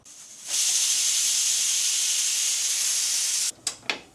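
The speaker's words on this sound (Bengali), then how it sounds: "চার থেকে পাঁচবার প্রেশার কুকারে যখন ডাক দিবে তারপর তুলে নেব" A pressure cooker vents steam while plum chutney cooks inside, a loud continuous hiss running for about three seconds, then breaking into two short sharp puffs.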